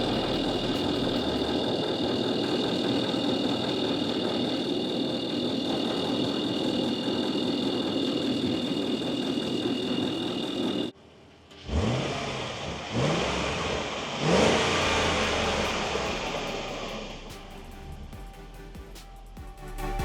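Overhauled Land Rover Discovery 4 engine, loud and close, running steadily before cutting out abruptly, then restarting with a couple of revs that settle into a steady idle.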